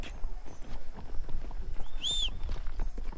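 Horses in Red Dead Redemption brought around, with busy clip-clop hoofbeats on ground close by, layered with brief shuffles and a short high whistle-like tone midway.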